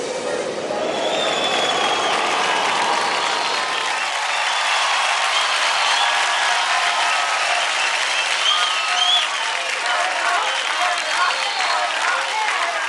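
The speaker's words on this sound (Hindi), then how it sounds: "जोरदार तालियां नीरव और स्नेहा जी के लिए" Loud, dense audience applause fills the hall after a dance performance on a televised dance competition, sustained and steady throughout with cheering mixed in.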